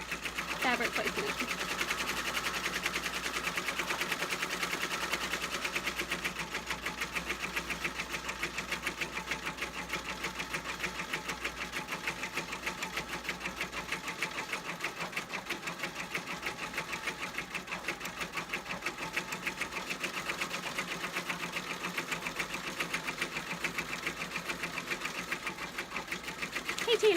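An embroidery machine stitches an applique stem with a steady, rapid, even mechanical chatter that runs close and constant throughout.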